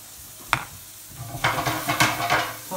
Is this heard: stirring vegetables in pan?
yes